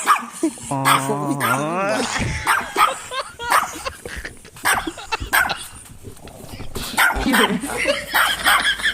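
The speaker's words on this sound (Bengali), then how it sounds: "ছোট্ট একটা বাচ্চা কুকুর" A small puppy barks and yips in short bursts near a gate, mixed with frequent people talking close by and background noise.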